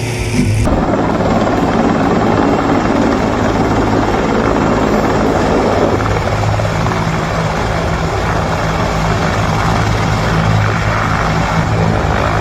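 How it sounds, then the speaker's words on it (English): A helicopter rotor beats steadily and loudly throughout, the engine drone constant and close, while it steers a tree being cut by a saw during forestry work. "perfect combination of helicopter and saw helped completely control the direction of the tree's fall"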